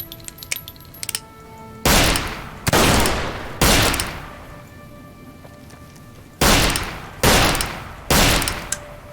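Gunfire in Fallout New Vegas: about six loud, booming shots spaced a second or so apart, each with a ringing tail, after a few faint clicks at the start.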